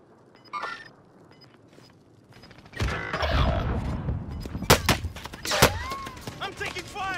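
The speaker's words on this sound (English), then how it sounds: "I'm taking fire!" Gunfire in Call of Duty Warzone comes as a few sharp cracks and bursts among clattering, creaking game effects after a quiet start, moderately loud, with brief whistling tones late in the clip.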